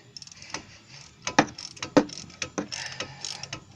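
A ratchet wrench breaking loose the front brake bolts on a Honda Civic, giving a series of sharp close clicks and clunks with a couple of stronger knocks in between.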